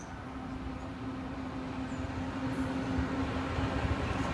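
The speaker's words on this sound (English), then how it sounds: "It's the slowest Amtrak train ever." An Amtrak passenger train with a baggage car rumbles steadily past at low speed, a continuous broadband roar with a faint hum, growing slightly louder toward the end.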